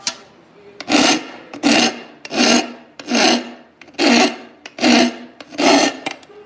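A file is worked over a small burr on an aluminum part in seven even rasping strokes, each a loud gritty scrape with a brief pause before the next, heard up close and alone.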